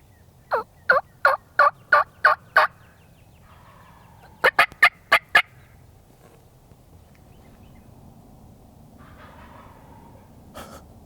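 Wild turkeys in Tennessee gobble in two rapid bursts of repeated calls, fairly clear against a quiet outdoor background, with a faint call near the end.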